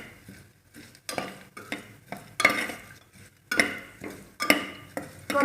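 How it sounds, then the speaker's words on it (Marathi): Cloves, cinnamon and black pepper stirred and sautéed in a pan for masala bhat, with a spoon scraping the metal in repeated strokes over a soft sizzle, close and alone. "लवंग चांगलं परतून घ्यायचं।"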